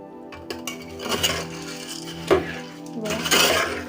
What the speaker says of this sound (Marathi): याच्यामध्ये आपण मिक्स केलेली बुंदी घालूया आणि हलवून घ्यायचे